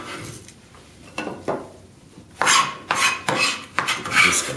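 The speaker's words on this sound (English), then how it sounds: "So we chopped up the onions. We'll combine them with the tomatoes" Chopped onions being mixed with tomatoes in a bowl for salsa, a series of loud, close scraping and clinking strokes of a utensil against the bowl, growing busier and more rhythmic toward the end, with no talking.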